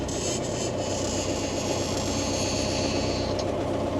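A SAME tractor engine runs at a steady idle, a constant mid-pitched mechanical drone with light vibration, close and unbroken throughout, no talking.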